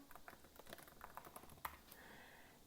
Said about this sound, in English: Then I will move into typing my name.